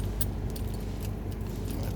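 Keys jangle in a few quick, bright bursts near a car, close and fairly loud over a low steady background hum, with no speech.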